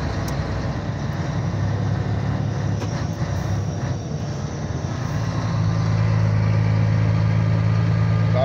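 A car engine labours up a mountain road in low gear, a steady droning hum that swells louder toward the end, heard from inside the car with no talking.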